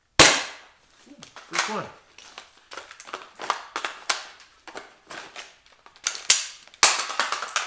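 Airsoft gun firing during beginner practice drills, a sharp loud first shot followed by a string of snappy pops at irregular intervals, some in quick bursts, with brief talk between.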